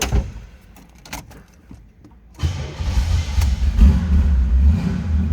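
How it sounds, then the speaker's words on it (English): A 1979 Pontiac Firebird Trans Am engine cranks after a few faint clicks, catches at about two and a half seconds and settles into a loud, rumbling idle that holds steady to the end. "Let's go ahead and fire this up so you can hear it run."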